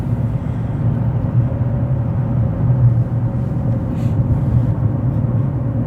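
A Rover 75 saloon on a road test, smooth low engine and tyre drone heard from inside the cabin, a steady, quiet rumble with no talk.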